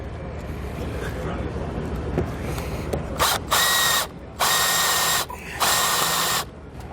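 A power drill drives screws into the rail of a Solera slide-out awning on a 2019 Grand Design Reflection RV, three loud whirring bursts with short pauses between them after a stretch of quieter shuffling.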